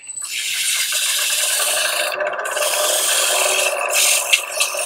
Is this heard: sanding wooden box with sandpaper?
yes